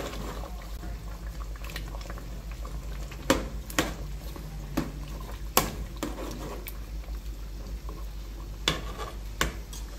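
Jamaican oxtail stew with garlic simmers and bubbles in a pot, a soft continuous burble broken by occasional sharp clinks and knocks of utensils against the pot.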